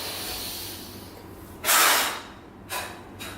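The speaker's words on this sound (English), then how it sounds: "pierce the lips, and forcefully allow the breath to expel out of the mouth" Two forceful breaths hissed out through pursed lips during a yogic breathing exercise, the first long and strong, the second shorter, close up in a quiet room.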